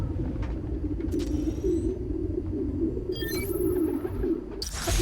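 A dense flock of pigeons coos in a city park in the Spider-Man: Miles Morales video game, a steady low murmuring bed that runs throughout, with a few brief higher chirps and whistles over it.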